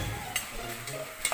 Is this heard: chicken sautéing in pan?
yes